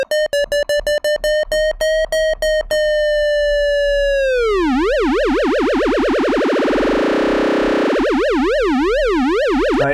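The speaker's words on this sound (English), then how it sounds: "So it sounds like that mini Moog." A Minimoog-like synthesizer plays: rapid repeated bright pulses, then a sustained tone that drops in pitch and warbles in a fast wobbling vibrato, loud and alone.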